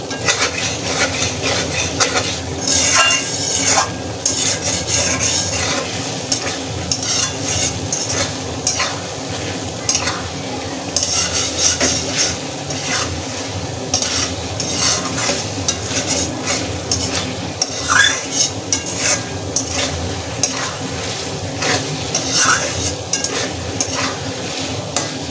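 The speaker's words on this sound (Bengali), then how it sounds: "আর এই পর্যায়ে ঘন ঘন নেড়ে নিতে হবে" A spoon stirs thick spice paste with cashews in a hot frying pan for an egg curry with kankarol, giving continuous scraping and clinking over a steady oily sizzle, close and fairly loud with no voices.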